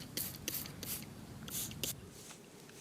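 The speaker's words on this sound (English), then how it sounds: "I'm going to take his advice and spray them" A hand sprayer mists purple cabbage plants with water mixed with a drop of plant-based dish soap, producing several short, close hissing bursts in an uneven rhythm before it goes quiet.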